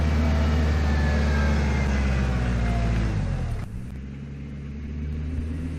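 A 4WD tractor engine labors steadily while driving in reverse up a hill, a loud, continuous low rumble that eases slightly near the end.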